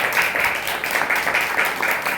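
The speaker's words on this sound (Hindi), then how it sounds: "ताली बजा के प्रभु के नाम में" A church congregation clapping together, a dense, steady burst of applause with a rhythmic pulse that stays loud through the short stretch.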